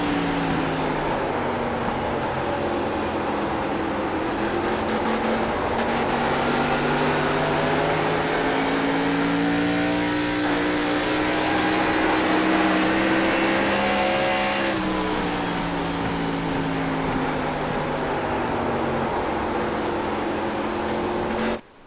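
Race cars including Camaros, Supras and Mustangs roaring around a track at Phoenix, a loud sustained chorus of engines with rising and falling pitch as cars pass, without a break until an abrupt cut at the end.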